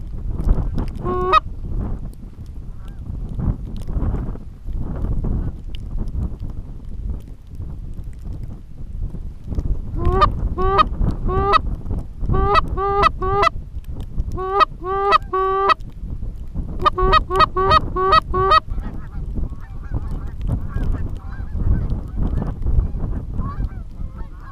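Geese honking in flocks over a windy marsh during a mallard duck hunt in a wind storm, with repeated bursts of calls, some distant and some nearer, over constant rumbling wind noise.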